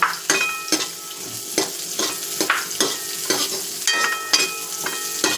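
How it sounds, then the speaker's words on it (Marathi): Sliced onion sizzles in hot oil in a pan for a South Indian beans sabji, with rhythmic scraping stir strokes over a constant frying crackle, close and with no talking. "कांदा फ्राय करायला घेऊया."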